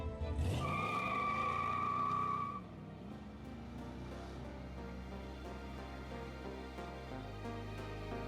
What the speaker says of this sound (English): he leads you to his station wagon and guns the engine.